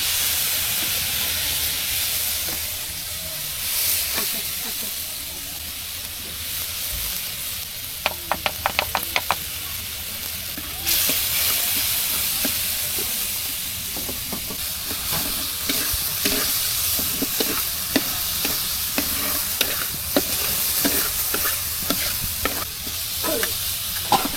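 Food sizzles in a pan as spices are added, a steady close hiss with steamy frying noise, broken by small taps and scrapes of stirring, including a quick run of clicks partway through.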